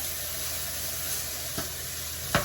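Vegetables for a creole sauce sauté in a pan with a steady, close sizzle throughout, broken by two brief stirring scrapes, the second louder near the end; no one speaks.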